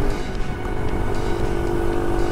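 Steady motorcycle engine drone while riding through a regional Japanese town, a constant close hum with no talking over it.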